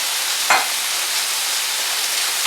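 Jerk chicken for tacos sizzles and fries loudly in a hot pan, a constant close hiss with one brief stir from a wooden spoon, no talking.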